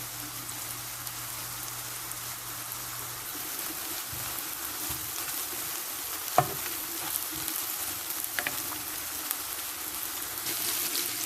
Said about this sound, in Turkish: Önce soğanlarımı soteleyeceğim.